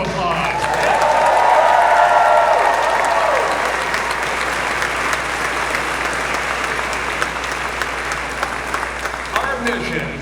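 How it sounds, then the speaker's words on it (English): Audience at the Artemis II crew naming event bursts into loud, sustained applause that peaks early and then tapers gradually over about ten seconds. "Let's give them another round of applause."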